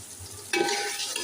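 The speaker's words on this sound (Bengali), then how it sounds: "এগুলো একটু ভেজে নেব।" Ginger-garlic paste with spices hitting hot oil in a pan, a sudden loud sizzle bursting in halfway through a quiet moment and continuing close up, no talking.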